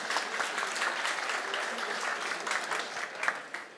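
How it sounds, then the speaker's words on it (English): An audience at a math competition semi-final applauds the advancing teams, with sustained clapping throughout and a few sharper claps standing out near the end. "let's hear a big round of applause"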